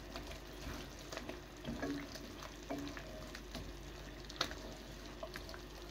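Bell pepper stir-fried in a pan, a quiet sizzle with soft irregular stirring scrapes and a few light clinks, faint and close, no talk.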